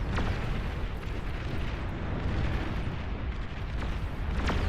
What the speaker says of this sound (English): Oh, and we have the first long-range cannon.